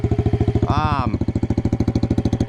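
A Yamaha 110 motorcycle engine runs at a steady, pulsing mid-pitched beat during wheelie practice, close and loud, with a brief rising whine partway through.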